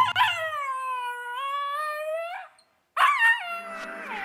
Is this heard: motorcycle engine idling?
no